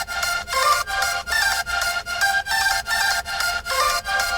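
A bright synth lead plays a steady, rhythmic pattern of short repeated notes at a fixed pitch, fairly loud and alone with no voices.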